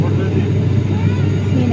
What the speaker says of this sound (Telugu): మా ఫ్లైట్ అయితే స్టార్ట్ అయింది.